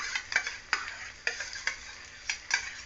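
A spoon scrapes and turns spice masala mixed with sour yogurt in a pan for a pointed gourd curry, about eight distinct stirring strokes at an uneven pace over a soft background sizzle.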